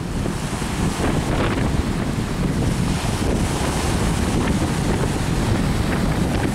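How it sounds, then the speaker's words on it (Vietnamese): Strong wind roars continuously over an open fishing boat at sea, mixed with the rush of waves and heavy buffeting on the microphone, loud and unbroken throughout. "quá ồn mà các bạn ơi gió càng lúc càng mạnh rồi"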